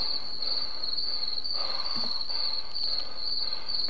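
Crickets chirp loudly and continuously at night, a shrill, unbroken high trill dominating the scene with faint background noise beneath it.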